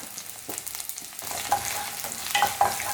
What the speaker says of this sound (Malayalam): ഈ ഉള്ളി നല്ലപോലെ ഒന്ന് ഫ്രൈ ആയിട്ട് വരട്ടെ.